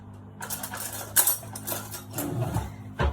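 A small spoon clinks against dishes while shrimp fritter batter is prepared, with a few sharp metallic taps, including two louder ones near the middle and end, over a soft, steady kitchen background.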